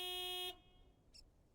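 A big white truck horn in the video game Lake sounds one loud, sustained blast that cuts off sharply after half a second, followed by a faint short beep.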